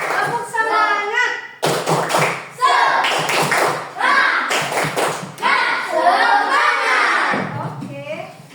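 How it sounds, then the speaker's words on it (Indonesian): A school class performing the 'tepuk semangat' cheer, bursts of sharp rhythmic clapping and chanted voices alternating with a teacher's speech and children's voices in a lively room. "kita tepuk semangat dulu"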